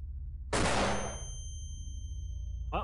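A flashbang grenade detonates in the XCOM video game: one sharp, loud burst with a ringing tail that fades over about a second, then quiet.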